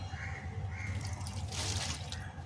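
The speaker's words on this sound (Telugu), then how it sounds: "ఇది మిర్చి అండి, దీంట్లో పోద్దాము ఈ వాటర్ మిలన్ వాటర్" Watermelon water is poured onto the soil of a potted chili plant, making a gentle close trickle with a brief fuller splash midway over a low steady hum.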